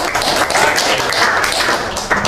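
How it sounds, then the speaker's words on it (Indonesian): A group of people clap their hands in a dense, steady round of applause at a talk-show discussion, loud and close with no voices over it. "Tepuk tangan dulu"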